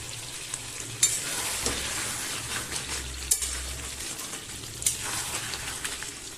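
Chicken sautéing in a pan with a spoonful of homemade biryani masala gives a steady close sizzle with occasional stirring scrapes and a few sharp utensil clicks. No one speaks.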